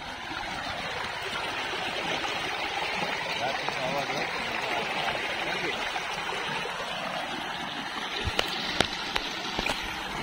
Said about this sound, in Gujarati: તમે ખાલી અવાજ મિત્રો સાંભળો પાણીનો.